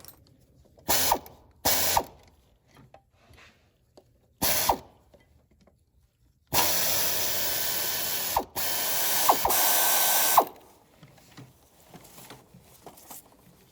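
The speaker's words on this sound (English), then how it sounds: "There's two 10mm bolts on the back side of the valve right here that are going up. So you have to get on those." A ratchet wrench clicks in several short bursts, then in two longer loud runs, as 10mm bolts are loosened on the back side of a valve in the engine bay of a 2006-2011 Cadillac DTS during an ignition coil replacement.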